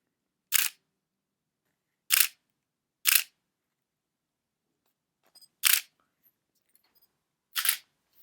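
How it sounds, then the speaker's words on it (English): Five loud, crisp Nikon D700 DSLR shutter clicks fire one at a time with silent pauses between them, close to the microphone. "This camera will announce to everyone in the room or everyone around you that yes, you are here"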